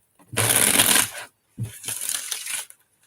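Playing cards shuffled during a live card reading, two bursts of crisp riffling flutter, the first longer and denser, the second briefer after a short pause, close and clear with no talking.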